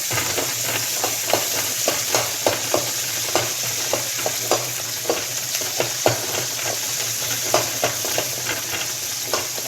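Coriander chutney ingredients sauté in a hot pan with a bright, steady sizzle, punctuated by quick, rhythmic stirring scrapes repeating about twice a second, close and fairly loud with no talking.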